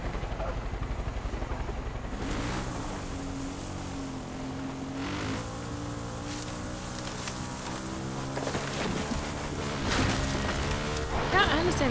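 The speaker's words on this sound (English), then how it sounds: "I'm saying the chopper's getting away" Helicopter in the video game Far Cry 5, a continuous rotor and engine drone that swells and grows louder toward the end, with players talking over it.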